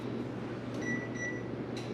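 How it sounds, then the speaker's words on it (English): A microwave oven hums steadily as it cooks cauliflower in a microwave-safe bowl, a close, even drone with a low mains buzz and a few faint high tones. "we're gonna put this in the microwave"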